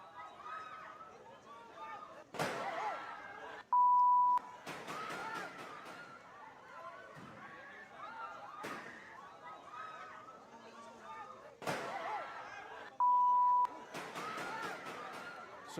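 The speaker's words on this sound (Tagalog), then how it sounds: "Sunod-sunod na putok ng baril po yan" Several sharp, loud gunshots ring out at irregular intervals over a murmuring crowd inside the Philippine Senate, with a steady electronic beep cutting in twice.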